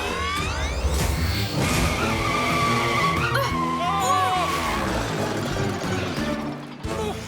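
A cartoon turbo tire races and skids, with a dense, continuous roar of engine whine, squealing tires and rising and falling mechanical tones under a busy music bed, loud throughout and fading slightly near the end.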